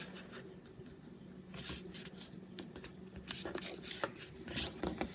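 A 12 by 12 inch paper square is folded diagonally and creased by hand for a craft project, giving close, soft rubbing and scraping rustles with a few sharper swipes near the end.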